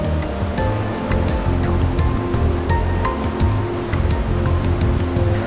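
River water rushing steadily beneath a bamboo bridge in Davao Province after rain, a continuous broadband flow with a low churning rumble and no talk.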